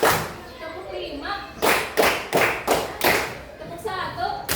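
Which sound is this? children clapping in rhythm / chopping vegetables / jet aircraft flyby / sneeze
children clapping in rhythm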